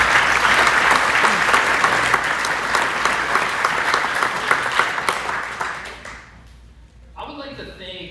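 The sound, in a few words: audience applause at hall of fame event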